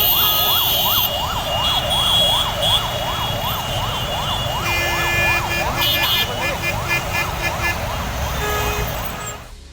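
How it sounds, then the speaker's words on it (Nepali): An ambulance carrying a patient pushes through a street crowded with a political procession, its siren sweeping up and down in a steady repeating wail. Crowd noise and people talking are heard underneath. "परैबाट साइरन बजाउँदै तुरुन्त अस्पताल पुर्याउनु पर्ने बिरामी लिएर कुदिरहेको यो एम्बुलेन्सले बाटो पाउन हम्मे हम्मे भयो"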